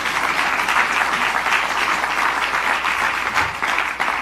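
Loud, sustained applause fills the room at a congressional celebration of the Respect for Marriage Act's House passage, dense clapping from many hands continuing without speech.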